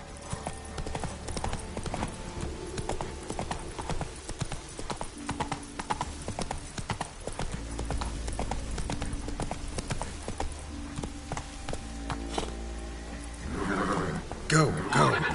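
Roach, the horse in The Witcher 3, gallops steadily with a continuous rapid clip-clop of hooves, a brief whinny near the end, and a voice talking over the hoofbeats.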